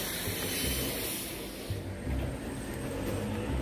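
High gloss wax detailer is sprayed onto a car at a self-service car wash in Korea, a steady close hiss of spray with brief pauses against a noisy washing bay.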